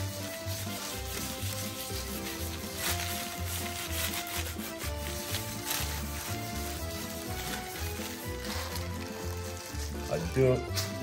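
Coarse salt being rubbed by hand into pork skin while curing pancetta, a continuous close scraping and rubbing texture. Steady background music plays underneath.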